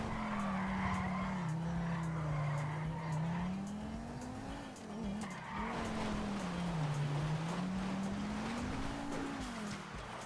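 Engine drone of a car in Grand Theft Auto 5 driven at night, rising and falling steadily with loud, continuous skidding and tire squeal throughout, no talk.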